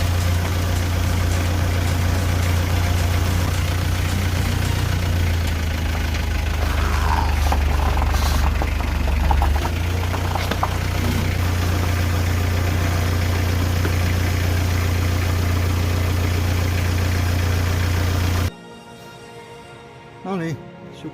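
A car engine idles loudly and steadily while it is used to press a tyre off its rim during a DIY tyre change, with voices talking over it, before the engine cuts off near the end.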